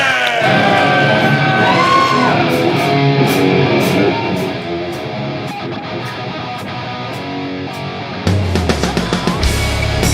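A live audience at Live at Bill's cheers for a band with loud, sustained whoops, yells and shouts that fill the room and then break off near the end.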